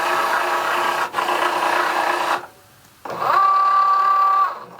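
A Cricut cutting machine feeds Smart Paper Sticker cardstock with no mat and draws with a pen, giving a steady mechanical whir that pauses briefly, then a higher motor drone with a held tone.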